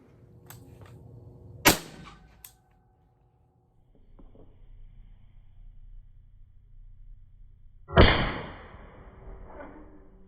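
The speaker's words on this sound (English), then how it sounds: "we're going to go ahead and shoot this Griffin Armament GP5 first" Two suppressed rifle shots fired through a Griffin Armament GP5 suppressor outdoors, each a sharp muffled crack with a short decaying tail, spaced several seconds apart with quiet between.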